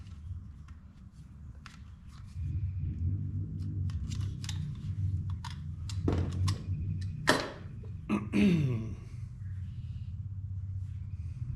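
New fuel line for an ultralight airplane is snipped with a cutting tool, a handful of crisp clicks and crunches clustered near the middle over a low, steady background hum.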